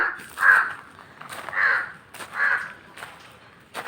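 Three loud crow caws, evenly spaced about a second apart, ringing out clearly with no talking.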